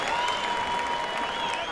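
A boxing arena crowd applauds and cheers in a dense, continuous wash of clapping, heard from within the venue at moderate level, with faint voices mixed in.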